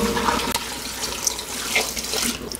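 Water poured into a cooking pot holding meat and sliced onion for a peanut sauce, a steady close splashing flow running through the short clip with no talk.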